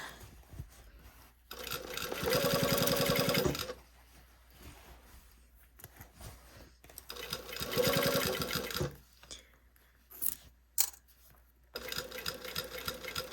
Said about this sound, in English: we're sewing this at 3/8 of an inch